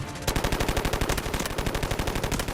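Sustained rapid machine-gun fire in the mobile shooter Delta Force Mobile, a loud, steady stream of closely spaced shots running almost the whole time after a brief quiet start.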